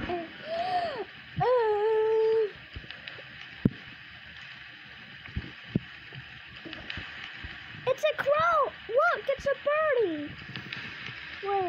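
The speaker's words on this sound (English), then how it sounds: "Does that mean there's an owl?" An owl hoots in the Roblox Brookhaven RP video game with a few wavering, tonal calls near the start, then a quicker cluster of hoots later, over a soft background of gurgling water.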